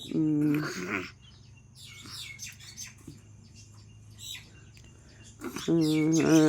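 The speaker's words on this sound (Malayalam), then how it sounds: "കിളികളും എല്ലാം ഉണ്ട് കേട്ടോ മൈനയൊക്കെ ഉണ്ട്" Morning birdsong including mynas, bright chirps and calls scattered across the scene, with people speaking loudly at the start and end.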